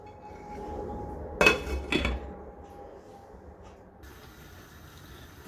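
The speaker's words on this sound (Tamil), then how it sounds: "மூடி ஒன்று போட்டு வைக்கிறேன் நான்." Two sharp metallic clanks close together, like a lid set onto a pot of boiling chicken curry, followed by a quiet kitchen background and a soft steady hiss.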